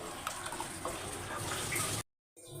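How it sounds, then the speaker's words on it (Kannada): About half a litre of water streams steadily into a pot of coconut curry for about two seconds, a close, hissing splash, then stops abruptly. "ಇಲ್ಲೇ ಅರ್ಧ ಲೀಟ್ರ್ನಷ್ಟು ನೀರು ಸೇರಿಸ್ತಾ ಇದ್ದೀನಿ"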